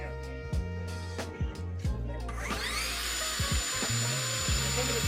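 A power saw spins up with a rising whine that settles into a steady high-pitched run, preceded by a few clunks and thumps as it is handled, close by and moderately loud.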